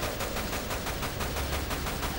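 Steady rapid gunfire from the video game Dirge of Cerberus: Final Fantasy VII rattles on as an even stream of shots throughout. Moderately loud, with no talk over it.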